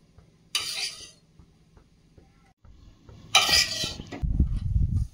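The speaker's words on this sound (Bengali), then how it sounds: "ভেন্ডি ভাজা হয়ে গেছে, প্লেটে তুলে নেব।" Fried okra is scooped out of a cooking pan onto a plate, giving short metallic scrapes and clinks of utensil against pan in separate bursts, followed by louder rattling at the end.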